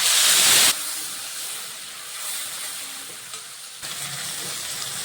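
Ground spice paste hits hot oil with cloves, cardamom and cinnamon, opening with a loud hissing splash that settles into a steady, softer sizzle close by, with a second small burst near the end.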